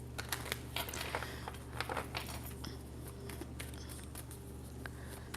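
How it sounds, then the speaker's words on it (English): Tarot cards being shuffled during a 2025 zodiac reading, giving a steady run of soft crinkly papery riffles and flicks, close up and fairly quiet, with no talking. "Let's give it one more shuffle."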